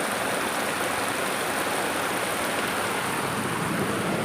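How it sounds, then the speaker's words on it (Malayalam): Water running along a roadside beside a newly built drain, a dense, steady rushing wash like a stream, loud and close throughout, with no speech. "ഇതാ റോട്ടിൽ കൂടെ പോകുന്ന വെള്ളം."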